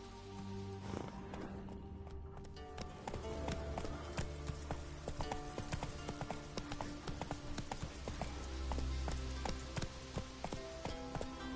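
Horse hooves clip-clop rapidly in a galloping rhythm across The Witcher 3 game world, steady and moderately close, over a faint background of music and ambience.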